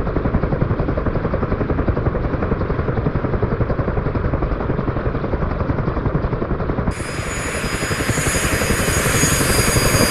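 A CH-53E Super Stallion heavy transport helicopter in the DCS flight simulator, a steady loud rotor thump and turbine drone throughout, with a brighter high whine rising partway through and no talking.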